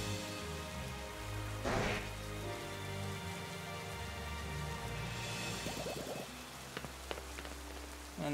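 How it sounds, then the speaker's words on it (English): Steady rain falls in the Pokémon Shield video game, a continuous soft patter with occasional louder drips and game sound effects layered over it. "Oh, it's raining."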